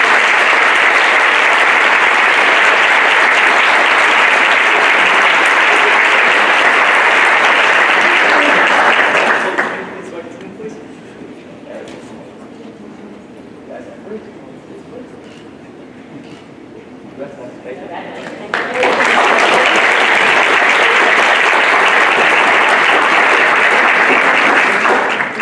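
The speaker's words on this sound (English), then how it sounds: "Please give them all a round of applause." An audience at a school ceremony applauds students with loud, dense clapping that dips to a quieter murmur midway, then rises again to full, sustained applause.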